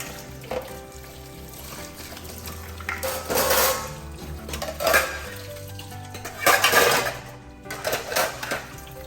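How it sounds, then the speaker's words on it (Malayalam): Dishes being washed at a kitchen sink, with running water bursts, clattering pots and clinking cutlery coming in uneven waves at close range; nobody talks. "അപ്പം അങ്ങനെ കുറേ പാത്രങ്ങൾ കഴുകാനുണ്ടാവും ഈ ഒരു സമയത്ത്"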